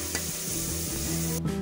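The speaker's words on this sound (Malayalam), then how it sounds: "ഒരു പാനിൽ എണ്ണ ചൂടാക്കി ഉള്ളി വറുത്ത്" Onions frying in hot oil in a pan for a vegetable biryani, a steady close sizzle with soft stirring scrapes and clinks of a utensil against the pan, no voices.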